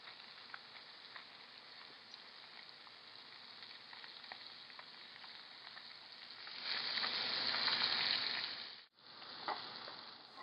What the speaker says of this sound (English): Add the scallops to the pan and allow to sear